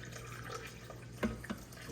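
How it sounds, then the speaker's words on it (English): A short trickle of water poured into a blender holding cassava leaves, with a couple of small splashes and clinks over a low hum. "I'm gonna put a little bit of water in here."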